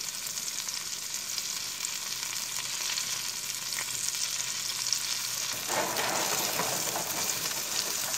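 Breaded trout fillets fry in butter in a pan after being flipped, giving a continuous bright sizzle. Partway through the crackle swells louder, as if the fish is shifted around. No one talks.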